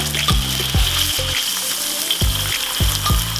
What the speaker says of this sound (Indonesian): Udah di blender jadi langsung kita tumis gini pemirsa.